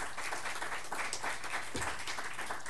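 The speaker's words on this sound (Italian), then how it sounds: "applaudite Giovane Tosi" Audience applause after a lecture-recital on Brahms, a dense continuous patter of many hands clapping steadily throughout, with a faint voice briefly underneath.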